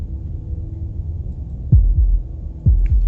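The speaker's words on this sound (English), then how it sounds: "That was the sound of a heartbeat" Two slow double heartbeat thumps in the Slay the Princess video game, deep and close, each beat a paired lub-dub pulse over a low droning hum, with no voices.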